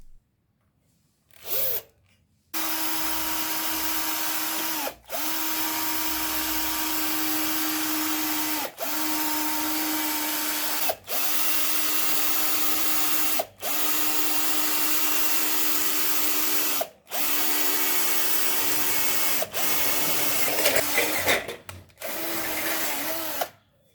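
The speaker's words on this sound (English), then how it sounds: "After measuring, drill a hole." A power drill whines steadily in long bursts, stopping briefly between runs several times, with a grinding, rubbing edge as the bit works through an aluminum rod.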